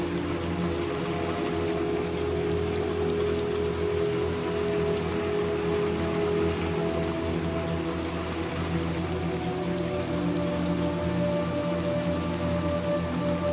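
Heavy rain pours down in the video game Little Nightmares 2, a loud, unbroken wash of drumming drops with a low steady hum beneath, lasting throughout without any talk.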